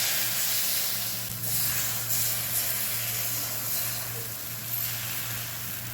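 Neer dosa batter spread thin on a hot pan over a high gas flame sizzles and hisses in a loud, continuous wash, with a low steady hum underneath and no talking.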